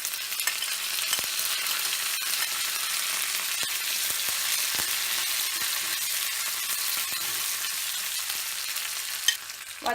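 Ginger, green chillies and curry leaves fry in hot oil with a steady close hiss and sizzle, broken by occasional light stirring taps, while no one speaks.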